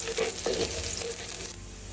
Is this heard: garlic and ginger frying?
yes